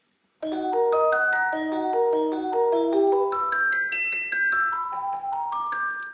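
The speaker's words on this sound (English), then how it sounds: "And then Celeste sounds like this, which I use only in the beginning." A sampled celeste from the Orchestral Tools Berlin Percussion library plays a bright, bell-like melody of quick, chiming notes that ring into one another in a steady flowing pattern, clear and alone.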